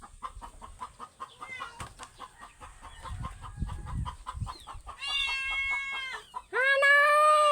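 Chickens cluck in quick repeated pulses, then break into two louder, drawn-out calls near the end, close by with a low rumble underneath.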